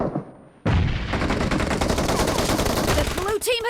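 An M1014 shotgun fires in PUBG Mobile: after a brief near-silence, loud, dense gunfire erupts and continues for about three seconds, followed by a short in-game voice at the end.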